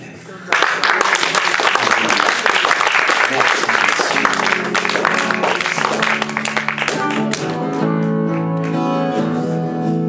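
A church congregation applauding steadily and loudly for several seconds, with voices and cheering mixed into the dense clapping and music rising toward the end.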